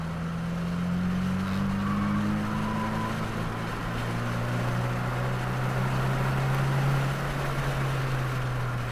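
A 2022 Subaru WRX at full throttle during an open track day at Waterford Hills, a loud steady engine drone climbing gradually in pitch as it accelerates, heard from inside the car with no talk.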